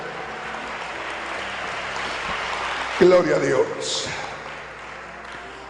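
A church congregation applauds at a Sunday service, a burst of clapping rising around the middle and fading under a preacher's voice, who speaks over it.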